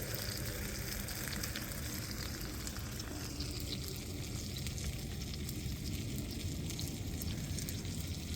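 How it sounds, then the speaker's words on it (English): Food pan frying outdoors at a woodland hammock camp, a steady close hiss and crackle of sizzling that runs unbroken and fairly faint throughout, with no voices. "I've resorted to pan frying the food."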